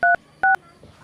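A phone number is keyed in as two short, loud touch-tone beeps in quick succession, followed by a brief quiet rustle.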